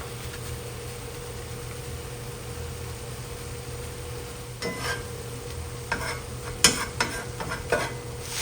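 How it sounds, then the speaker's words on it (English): Ground beef browning in a pan, a constant soft sizzle with a steady hum beneath, then a few sharp scraping stirs near the end, no voices. "So as the meat is browning, I'm going to add in some of my taco seasoning."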